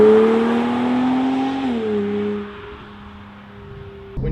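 A Porsche Boxster S with a 3.4-litre, 310-horsepower engine drones steadily while cornering on B roads. The tone drops in pitch partway through and settles lower, ending with a brief thump. No voices are heard.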